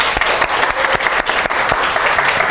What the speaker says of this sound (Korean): 자, 여기까지 박수.